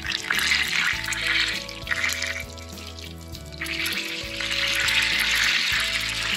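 Butter browning in a pan sizzles and sputters steadily and loudly up close, with a hissing, crackling spatter that eases briefly before building again, with no talking.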